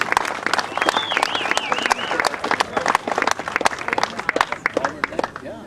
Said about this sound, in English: Give them a big St. Mary's River Sault Ste. Marie round of applause.